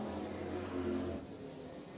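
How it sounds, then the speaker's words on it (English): Hot rod classic race cars, all older than 1980, at Petty International Raceway, engines droning and revving at moderate distance before the sound eases off, with no voices. "Lots of horsepower cranking out of these engines"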